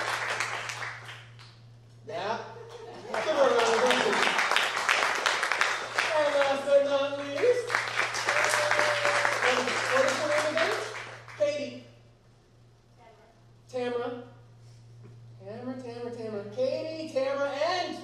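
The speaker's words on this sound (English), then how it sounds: "Give her a round of applause." Audience applause for a woman at a magic show, a broad wash of clapping swelling for several seconds and returning in shorter bursts, with a steady low hum throughout and voices talking in the quieter gaps.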